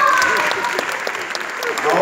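An audience claps for a magician named Sebastián at a live magic show, a steady dense patter of many hands sustained throughout, close and fairly loud.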